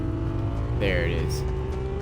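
A Ferrari sports car driving in Fortnite, its steady engine drone rising briefly as it revs, heard under someone talking.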